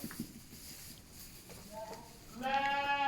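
Suffolk lambs bleat in a harmonic, wavering cry near the end, preceded by rustling and faint background noise; the bleating is close and fairly loud.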